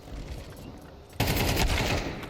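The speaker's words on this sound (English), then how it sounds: "Romans found an AK" Automatic AK rifle fire in a Counter-Strike esports match erupts abruptly as a loud, dense burst of rapid shots after a quieter stretch of background game ambience.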